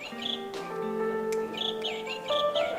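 A pet songbird kept for its song (burung ocehan) chirps and warbles in short bright phrases over a sustained tonal background, fairly close and moderately loud, with no talking.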